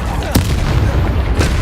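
Two sharp, booming blasts from the Bombarda blasting spell in Hogwarts Legacy, about a second apart, burst out loudly over a dense, steady wash of game sound.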